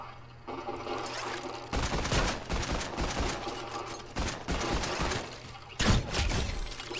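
Several Fortnite gunshots ring out on the Nintendo Switch, sharp loud bursts that come in clusters over a few seconds amid game noise and a shattering crash.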